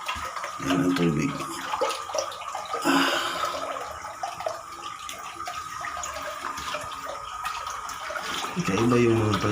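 Water flows and splashes in an uneven, nearby rush that surges partway through, while people's voices come and go over it.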